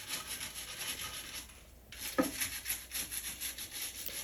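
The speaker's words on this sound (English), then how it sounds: "you just want to use the toilet brush to clean the seams" A toilet brush scrubs along the seams and hinges of a dirty toilet seat, giving close, steady rhythmic rubbing and scraping strokes with a brief pause midway.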